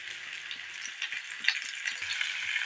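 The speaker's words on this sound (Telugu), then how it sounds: "అవి నూనెలో మంచి కాలాలి" Spices fry in oil for a Telangana-style fish curry, a bright steady sizzle with small crackles and light scraping of stirring, close and alone without talking.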